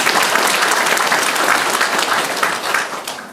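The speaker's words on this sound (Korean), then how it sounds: "박수를 보내주시기 바랍니다." Audience at a Korean town hall meeting with the county governor in Sapgyo-eup applauds steadily, a dense, loud wash of clapping hands lasting a few seconds before tapering slightly at the end.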